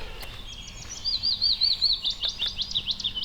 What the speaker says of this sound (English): But with that beautiful willow warbler,